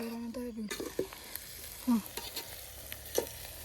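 Onion tempering sizzles in hot oil for a pigeon pea dish, with scattered spoon clinks and scraping from stirring over a continuous close fry.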